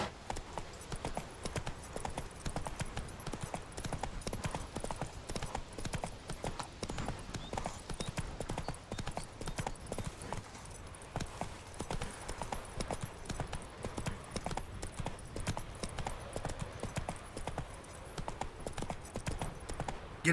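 Roach, a horse in The Witcher 3 video game, trots along with a continuous rapid clip-clop of hooves, steady and fairly quiet throughout, with a brief voice in the background.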